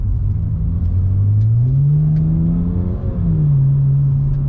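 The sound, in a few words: 2008 BMW 335i twin-turbo inline-six engine revving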